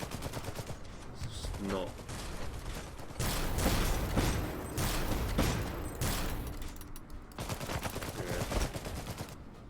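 Rapid bursts of SMG gunfire and other weapons fire in the strategy video game Iron Harvest, dense and continuous, with someone talking briefly over the clatter.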